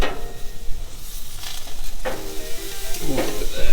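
Beef tenderloin sizzling loudly on an Oklahoma Joe offset smoker as it is flipped, a steady close hiss with a couple of brief scraping bursts from the turn.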